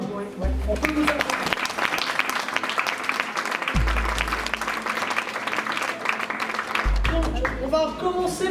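Audience clapping for participants in the Cook & Run contest held by a chef, mixed with music and a voice talking over it. The dense clapping continues steadily under the other sounds.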